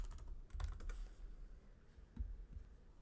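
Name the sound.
typing text on a computer keyboard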